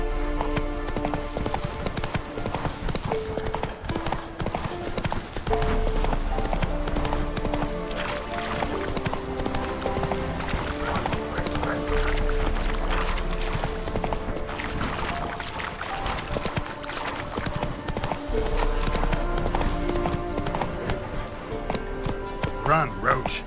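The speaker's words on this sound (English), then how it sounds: "Run, Roach" A horse gallops in The Witcher 3, steady clip-clop hoofbeats running continuously under game music, with speech over it.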